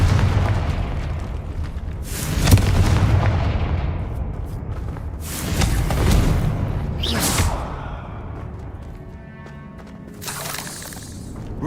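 Confringo fire spell blasts in Hogwarts Legacy: several loud booming bursts a few seconds apart, each followed by crackling and scattering debris, with no talk over them.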